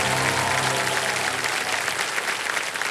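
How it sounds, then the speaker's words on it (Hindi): A television quiz show studio audience breaks into applause, a dense, even wash of many hands clapping loudly. Music fades out underneath early on. "तालियां बज जाए"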